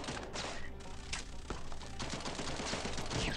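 Rapid gunfire crackles in dense, continuous volleys in the video game Swamp Attack 2, loud and busy throughout with overlapping shots and thuds and no speech.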